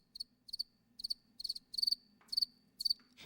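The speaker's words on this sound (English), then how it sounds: "This is the domestic cricket" A male domestic house cricket chirps in short, evenly spaced bursts of rapid pulses, close and clear over a faint low hum, with no voices.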